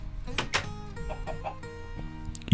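Chickens cluck in the video game Minecraft, a few short clucks rising over a soft, steady musical bed with a louder blip at the end.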